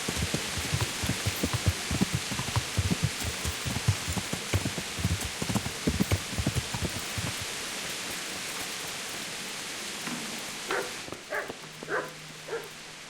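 Steady rain hisses across the scene of the video game Kingdom Come: Deliverance, overlaid with many soft irregular thumps and taps, before thinning out to quieter ambience with a few short muffled sounds near the end.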